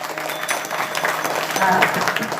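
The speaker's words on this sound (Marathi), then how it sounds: "जोरदार टाळ्या झाल्या पाहिजेत" Steady applause from a crowd at a kirtan, continuous clapping that swells slightly toward the end.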